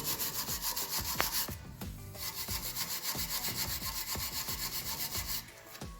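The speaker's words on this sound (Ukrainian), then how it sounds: "Беремо щітку, вичищаємо на скобі місце, де у нас ходять колодки." A brush scrubs the pad seats of a brake caliper bracket during brake system maintenance after the disc is removed, giving steady, rhythmic back-and-forth rasping strokes, close and fairly loud, with no talk.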